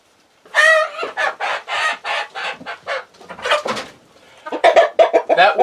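Chickens mating with a rooster clucking and squawking loudly up close, a dense run of harsh, rhythmic clucks and cries from one bird, pausing briefly before another burst of clucking.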